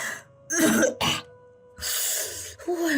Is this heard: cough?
yes